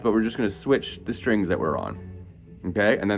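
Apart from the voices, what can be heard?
No everyday noises stand out.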